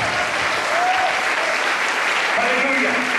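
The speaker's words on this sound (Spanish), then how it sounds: "Vamos a dar un aplauso por eso a Jesús." A church congregation applauds steadily throughout, a dense continuous wash of many hands clapping with a few faint voices calling out beneath it.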